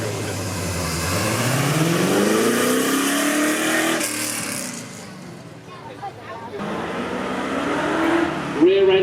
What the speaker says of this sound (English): this is a Ford GT with a 5-litre V8